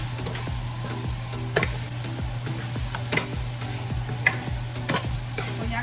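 Salted pork frying in a pan while being stirred, with a steady sizzle under repeated scraping and clacking strokes of the spoon against the pan, all close and without talk.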